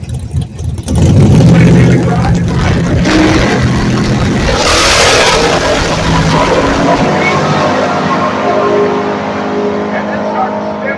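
Drag race cars launch off the line, including a 1984 Mustang SVO, with a loud burst of engine roar and revving that stays strong and then fades slightly, while people talk over it.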